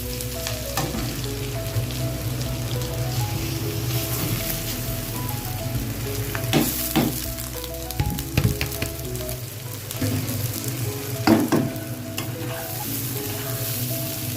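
Rice poured into a pan of frying onions gives a constant bright sizzle, broken by scraping and clattering as the pan is stirred, and the hiss softens partway through; no talking.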